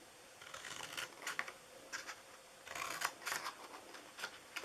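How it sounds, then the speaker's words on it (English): Scissors snip through a paper box template for a Halloween treat box in a few quiet, close bursts of crisp cutting strokes with short pauses between them. "I'm going to do a little bit more cutting here. So I'm going to cut into these."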